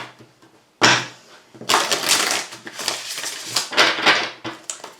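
A deck of tarot cards shuffled close by: a sharp riffle, then several rapid rustling, crunching bursts of card-on-card friction with brief pauses, loud and without speech.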